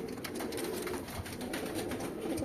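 Grey and Misaki breed pigeons coo softly and steadily against a continuous background hum, with no voices.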